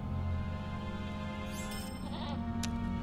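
A goat mount in the Lord of the Rings Online video game gives a short, nasal bleat over a steady droning game soundtrack, fairly faint and heard alone without talk.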